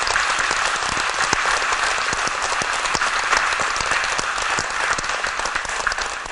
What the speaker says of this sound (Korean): 이분을 위해서 박수를 안 칠 수 없는 거예요